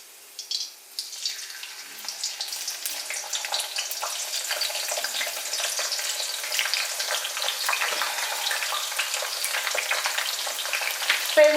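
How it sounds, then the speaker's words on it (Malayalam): Bitter gourd slices fry in hot oil, the sizzle building from a quiet start into a loud, dense, crackling hiss that stays close and continuous. "അപ്പം നല്ല ഫ്രൈ ആകുന്നിടം വരെ നമ്മൾ വെയിറ്റ് ചെയ്യണം"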